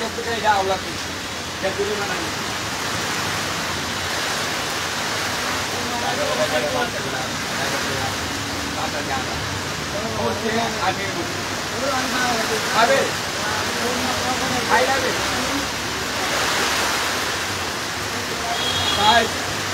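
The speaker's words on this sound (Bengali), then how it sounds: "বাতাস আছে লগে এবং বৃষ্টিও।" Heavy rain roars steadily with gusty wind in Moulvibazar town, Bangladesh, a dense continuous wash of noise, and a voice talking faintly at times beneath it.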